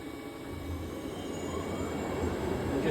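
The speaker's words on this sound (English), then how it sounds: "Start the spindle at a low RPM." A CNC lathe spindle turns at low RPM while cutting a trapezoidal internal thread, giving a steady low rumbling drone that builds slightly over a few seconds, with no voices.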